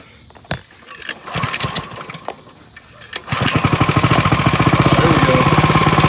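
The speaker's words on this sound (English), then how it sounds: "Now we got a normal idle." A Coleman CK100 go-kart engine, fitted with a new carburetor, coughs through a few uneven revs, then catches at about three seconds and settles into a steady, rapid idle putter that is close and loud.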